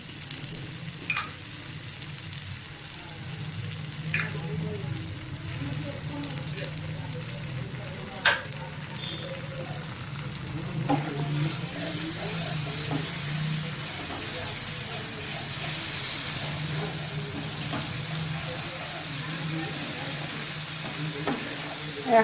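A cashew, tomato and green chilli paste for egg curry sizzles and fries steadily in a pan, a continuous close hiss with occasional stirring scrapes and taps, no voices.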